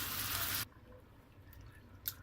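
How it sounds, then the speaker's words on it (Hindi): Chicken stock is poured into a pot of cream of mushroom soup, giving a steady rushing splash that stops abruptly, followed by quiet liquid movement and a single faint drip. "अब मैं Aahista Aahista chicken stock add करती जाऊंगी।"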